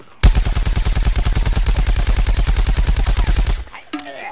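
Rapid automatic gunfire in the shooter game Plants vs. Zombies: Garden Warfare, a dense, even burst of shots lasting a few seconds, loud and close, cutting off abruptly, followed by a brief mechanical reload-like click.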